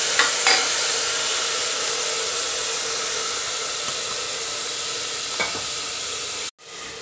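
Tomato puree and browned garlic fry in a pan for dum aloo, giving a loud, constant close sizzle with a few light stirring clicks before it cuts off abruptly near the end.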